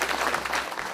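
Brief, dense clapping from the audience at a town meeting in Fyffe, a short steady burst from many hands with no talk over it.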